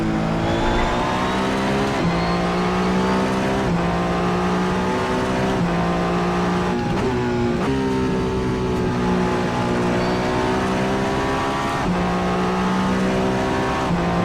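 A Le Mans hypercar engine at Spa in Assetto Corsa sings loud and continuous, rising and falling through gear changes and revs with faint tire noise, and no voice over it.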